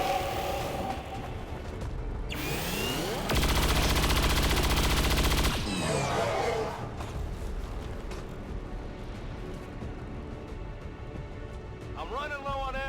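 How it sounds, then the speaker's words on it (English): Sustained automatic gunfire in XCOM 2 as soldiers open up on an Archon, a dense loud burst of rapid shots with a louder stretch in the middle, mixed with game effects and a voice talking over it. "everyone that just moved up can now take shots on the Archon"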